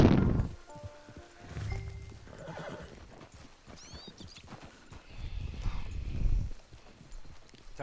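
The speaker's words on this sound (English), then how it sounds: "It's your horse." Video game horse hooves clop irregularly while a horse whinnies and snorts, with a few faint voices talking in the background.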